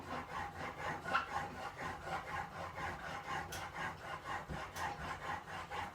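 Steel chisel pushed back and forth on a diamond sharpening plate to set a 25-degree primary bevel, a steady rhythmic rasping scrape repeating about twice per second, close and fairly quiet with no talk.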